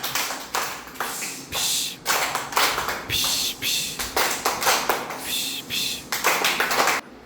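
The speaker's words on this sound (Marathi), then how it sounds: "आता कोणती टाळी बाकी आहे आपली? फिश टाळी." A rapid series of hand claps in the repeating rhythmic pattern of a fish clap, bursts of quick claps separated by short pauses, close and fairly loud.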